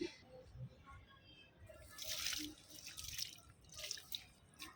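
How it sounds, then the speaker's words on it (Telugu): Water poured from a container onto the soil of a potted hibiscus plant: soft splashing and trickling bursts come in several pulses, fairly close, with no talking. "ఇప్పుడు ఈ వాటర్ని మన పూల మొక్కల మట్టి భాగంలో ఇచ్చేసుకుందాం"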